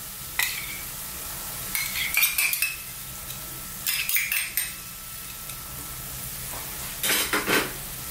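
Soy sauce, Worcestershire sauce and ketchup stirred together for a meatloaf sauce, with several bursts of clinking, scraping utensil strokes against a bowl separated by short pauses and a low background hum.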